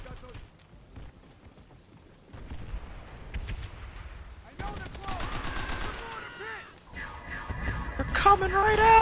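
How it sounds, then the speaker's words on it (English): Machine guns rattle in a WW2 Pacific war video game, rapid bursts building from faint, sparse shots to loud, dense automatic fire over mechanical clatter and a low rumble, getting heavier toward the end. "Man, the machine guns."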